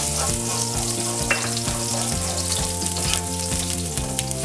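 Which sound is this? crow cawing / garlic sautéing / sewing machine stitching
garlic sautéing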